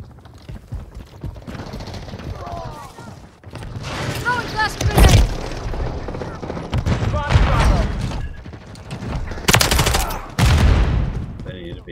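Hip-fire gunfire in Modern Warfare 3 multiplayer, sharp bursts of shots mixed with mechanical weapon handling and reload clicks, loud and close, with a player talking over parts of it.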